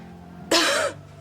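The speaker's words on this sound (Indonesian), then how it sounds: "Saya perhatikan semakin hari batuk kamu semakin parah." A woman gives a single short, sharp cough, close and alone against a quiet room, during a television drama scene.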